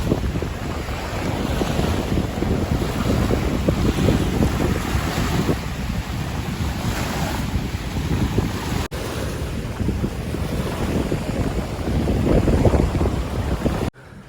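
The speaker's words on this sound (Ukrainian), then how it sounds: "дуже сильний вітер, дивіться, які тут хвильки." Strong wind roars steadily into the microphone at Lake Svitiaz, buffeting it with a broad rushing noise, with small waves lapping beneath; no voices.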